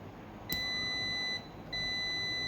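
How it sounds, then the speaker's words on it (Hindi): A multimeter's continuity buzzer beeps while it tests a fuse: two steady high-pitched tones, the first lasting nearly a second and the second starting after a short gap, clear and close with no talking. "जैसे आप देख सकते हो ये फ्यूज़ हमारा बजर की साउंड दे रहा है, इसका मतलब ये ओके है।"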